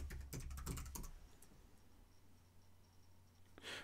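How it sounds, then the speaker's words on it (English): Quick, crisp keystrokes on a computer keyboard as a password is entered on a Mac, a fast burst of clicks in the first second followed by near silence and one last faint tap. "Type in your password."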